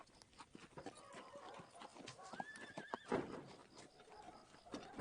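A horse's hooves clip-clop steadily over ground and the horse gives a sharp neigh partway through, with rustling movement around it in an outdoor action-film scene.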